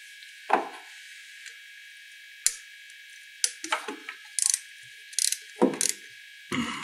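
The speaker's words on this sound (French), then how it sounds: "Pour démonter notre carburateur qui est donc ici de notre pipe d'admission, nous avons donc deux vis à desserrer." A ratchet wrench loosens the carburetor screws on a Speedfight scooter, clicking in short close bursts with gaps between turns, over a steady high background hiss.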